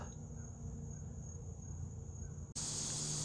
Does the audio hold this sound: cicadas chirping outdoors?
yes